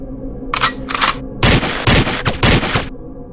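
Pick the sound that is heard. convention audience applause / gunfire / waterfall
gunfire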